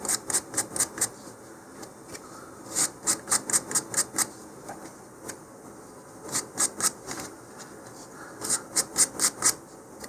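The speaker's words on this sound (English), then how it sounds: "just take a little bit of fine sandpaper and just sand off those little nubs" Fine sandpaper sanding small nubs off model rocket parts gives quick, raspy strokes in short rhythmic bursts with brief pauses between them. The scratching is close and crisp, with no talking.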